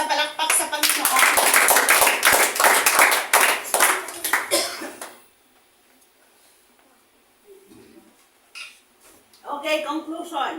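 A church congregation claps loudly and steadily for several seconds, then the applause fades into quiet before a voice resumes speaking.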